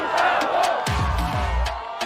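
A crowd at a surf contest on the beach in Rio cheers and whoops, steady and loud, with a commentator's voice running over it.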